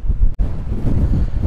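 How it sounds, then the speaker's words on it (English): Strong seaside wind in Ayrshire, Scotland buffets the microphone in a continuous low roar, with gusts rising and falling and a brief drop near the start. "We are in a very, very windy Scotland."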